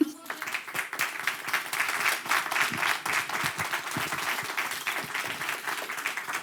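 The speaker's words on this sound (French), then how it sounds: "Merci beaucoup Audrey, on peut l'applaudir." A conference audience bursts into applause after a talk, a dense run of many hands clapping that swells and holds for several seconds in a room.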